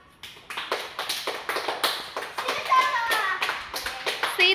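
Children clap hands in a playful Ramayana-themed role game, a quick run of sharp claps in bursts, close and fairly loud, with children's voices chattering beneath.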